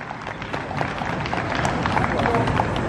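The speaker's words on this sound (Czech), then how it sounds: "To chce potlesk a pořádný." Audience applause for actor Josef Dvořák, honoring his 741 performances in the water-goblin role, a dense, steady sustained clapping from a full hall with crowd murmur underneath.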